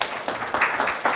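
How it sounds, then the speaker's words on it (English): An audience at a tech conference talk claps in welcome, a short burst of scattered applause that is moderately loud and slightly muffled, with a few stronger clusters of claps. "Please give a round of applause for Tariq."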